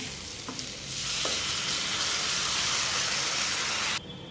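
Water poured into a pan of sizzling potato and bitter gourd masala sets off a loud, rushing hiss of steam that holds steady and then cuts off sharply, with a few light clinks at the start.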